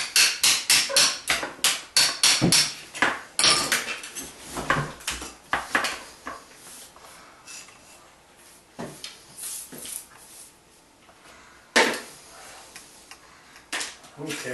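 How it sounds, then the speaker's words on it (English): Old wax, putty and mortar are scraped and chipped off a tile floor in a rapid series of sharp scraping knocks, with irregular bursts and short pauses and a few louder strikes. "now we got to clean up this old wax and all the putty on the floor"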